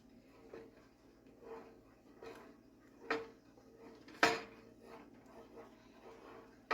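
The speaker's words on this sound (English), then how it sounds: "we just need to stir it up." Chicken in a creamy lemon sauce stirred in a pan, soft quiet scraping with a few sharp utensil clinks against the pan, fairly close.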